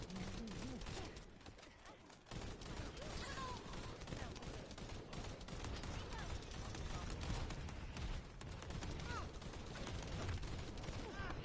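Dense, continuous gunfire from enemies in the sci-fi shooter The First Descendant, sustained bursts rolling through the whole stretch at steady loudness, mixed with other game effects and a voice talking over it.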